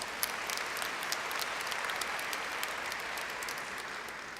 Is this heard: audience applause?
yes